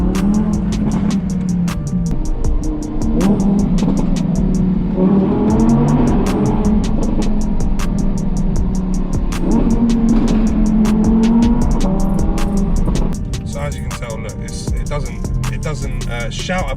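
Audi R8 V10 with sports exhaust in sport mode, a loud steady engine drone with revs rising and falling over about seventeen seconds, close by, easing slightly near the end.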